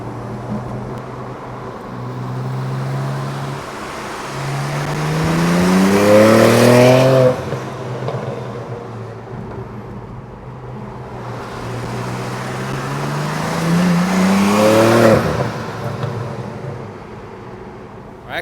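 A BMW G80 M3 engine revs twice, each time climbing in a rising, throaty sweep to a loud peak before dropping back to a deep idle, close by with people talking around it.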